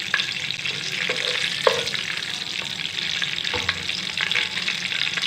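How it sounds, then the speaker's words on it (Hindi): Ghee sizzles in a hot pan for zarda sweet rice, a steady loud crackling hiss with occasional sharper pops and faint stirring clinks, heard close and without voices. "घी अच्छी तरह से गर्म हो जाए।"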